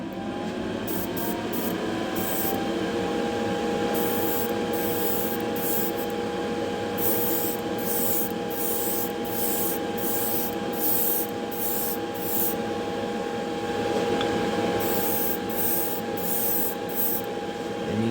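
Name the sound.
spray booth fan running while spraying paint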